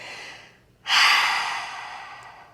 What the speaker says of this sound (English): Let your back round, heavy exhale out